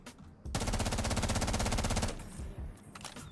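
Rapid automatic gunfire from a shooter video game: one sustained, loud burst of closely spaced shots lasting about one and a half seconds, with quieter game ambience before and after.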